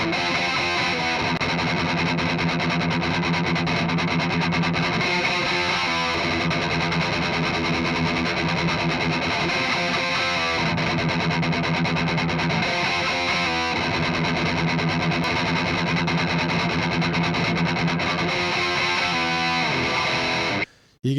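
A heavily distorted electric guitar through a Marshall DSL amplifier plays loud, dense thrash chords continuously, sustaining thickly for about twenty seconds before cutting off.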